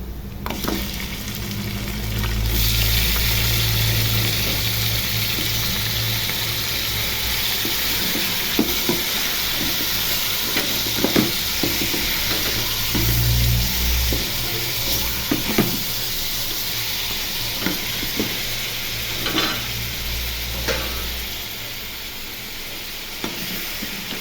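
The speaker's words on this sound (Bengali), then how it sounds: "এখন মাংসগুলো ঢেলে দিব। পেঁয়াজটা লাল হয়ে আসছে।" Beef pieces frying with browning onions in a pan, a loud continuous close sizzle with scattered stirring scrapes and clicks, and a brief louder hiss as the meat goes in.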